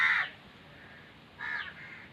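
Two harsh crow caws, one at the start and another after a pause of over a second, fairly close with nothing else around.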